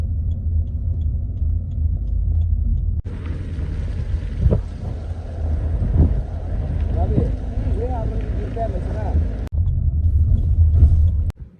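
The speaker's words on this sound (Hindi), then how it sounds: "हमारी गाड़ी केवल 10 किलोमीटर प्रति घंटे की स्पीड से चल रही थी।" Car creeping along a mountain road at about 10 km/h through thick cloud, with a steady low engine rumble and wind noise throughout and faint talk inside the vehicle.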